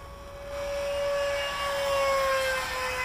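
Freewing F9F Panther RC model jet at max throttle in flight, a steady high-pitched ducted-fan whine that holds loud and continuous, swelling slightly as it passes, with no talk over it.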